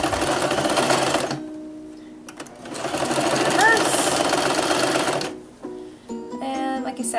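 A sewing machine stitches couch cushion fabric in rapid, buzzing runs, stopping and starting in loud close bursts, with a person talking over and between the stitching.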